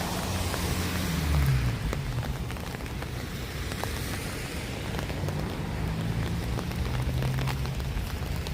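Rain falling on a Toronto city street in winter, a steady close hiss of drops on wet pavement with faint traffic rumble underneath, continuous and even throughout.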